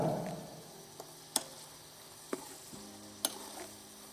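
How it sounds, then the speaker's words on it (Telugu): Hill goat mutton curry with green chillies is stirred in a pan over a low, steady sizzle, with occasional sharp scrapes and taps of the spoon against the pan. "పచ్చిమిర్చి వేసుకున్నాం కాబట్టి ఇప్పుడు బాగా కలుపుకొని బాగా ఆగనిద్దాం"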